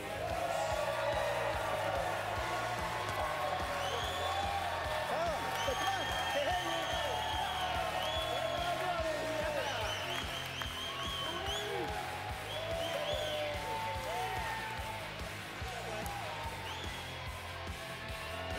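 Crowd noise fills a bowling arena during the 2017 PBA League semifinals, with steady cheering, whoops and clapping throughout, loud and continuous, with voices shouting over it.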